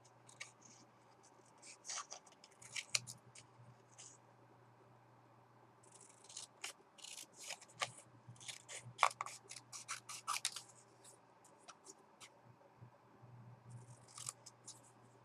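Scissors cutting card stock for a pop-up easel card, faint close snips and rasping paper strokes in irregular bursts over a low steady hum; no talking.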